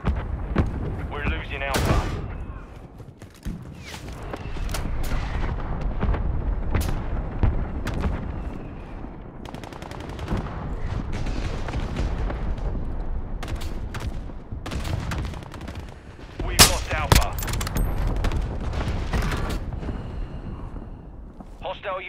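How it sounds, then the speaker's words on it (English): Mortar strike explosions and rattling gunfire in Call of Duty Modern Warfare ground war combat, deep booms and sharp cracks scattered throughout, one especially loud blast near the end, with radio voices and speech layered over the battle. "Hostile mortar strike in the area."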